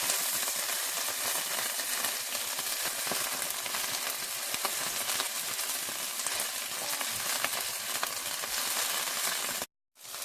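Homemade turkey breakfast sausage patties frying in a pan, a continuous even sizzle and spatter close by, cutting out abruptly near the end.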